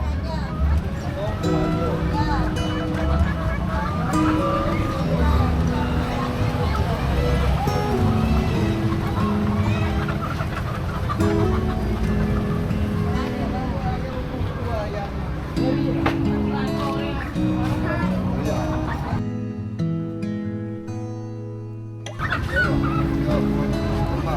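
Live chickens cluck and fowl calls rise amid the steady bustle of an Indonesian traditional market street between Pasar Bong and Pasar Pabean, with crowd noise, voices and traffic continuous throughout and a brief dip near the end.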